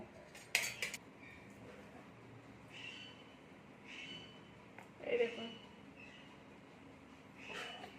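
A spinach dish with coriander leaves is stirred in a pan, and a spoon gives a few sparse metallic clinks and scrapes against the pan over a quiet background.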